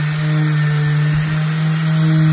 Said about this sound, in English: I don't push really hard when I have my 60 grit sandpaper on there